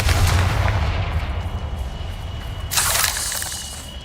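A Confringo blasting spell bursts in the video game Hogwarts Legacy, a loud explosive boom that fades into rumbling debris, followed by a second bright crackling burst near the end.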